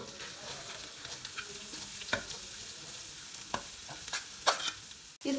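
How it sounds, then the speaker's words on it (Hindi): Carrots frying with garlic in a pan give a steady close sizzle, with scattered stirring clicks and scrapes and no talking. "इसको अच्छी तरह फ्राई कर लेंगे। गाजर हमारी फ्राई हो गई है"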